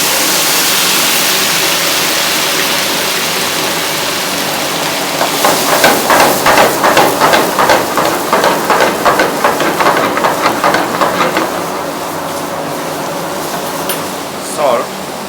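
Fresh vegetables and garlic sauté in a hot restaurant-style pan with a loud, steady hiss that swells into rhythmic pulsing sizzles as the food is tossed, then settles back, while a cook talks over it.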